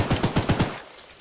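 A mounted gun in the Choo-Choo Charles game fires a quick burst of about four punchy shots in even rhythm, loud and close, before trailing off into silence.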